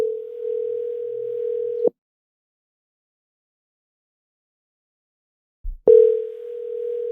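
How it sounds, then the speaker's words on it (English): A phone call goes unanswered: a steady ringback tone sounds for about two seconds, cuts to silence for several seconds, then resumes loudly after a brief click. "Let's get Pat Light on the phone."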